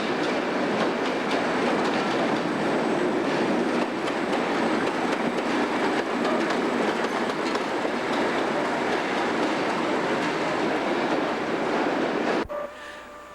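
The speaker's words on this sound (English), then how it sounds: "Next will be a rare Class 31 engine running light through the station." A rare Class 31 diesel locomotive, built 1957–62 by Brush Traction with an 1,100 horsepower English Electric engine, runs light through a British station in 1991, giving a loud, steady rumble and clatter of wheels that ends abruptly.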